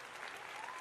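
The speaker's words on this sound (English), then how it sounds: "Yes, I'm trying to clap." Brief burst of hand clapping amid a studio crowd, a steady wash of applause lasting under a second with voices faintly mixed in.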